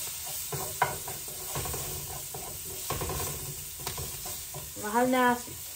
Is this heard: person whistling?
no